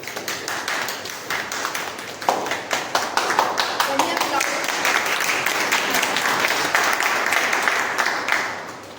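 Audience applause at a Toastmasters club meeting, with steady rapid clapping from a group that runs for several seconds, swells briefly and then fades out.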